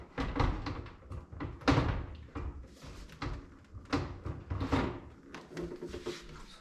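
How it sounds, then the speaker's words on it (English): A Jennair wall oven door is lifted off its hinges, giving a series of close clunks, knocks and scraping rattles in uneven bursts. "the door comes off very easy"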